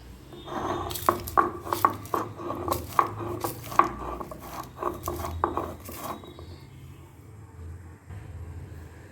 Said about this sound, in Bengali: এবার আমি এগুলোকে শিলনোড়ায় বাটবো প্রথমে লঙ্কাটাকে নিয়ে নিলাম